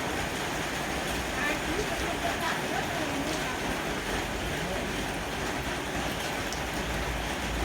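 Heavy rain falls outdoors in a steady, dense roar that fills the whole stretch without a break, where a 2.5-metre kite without a whistle is being flown.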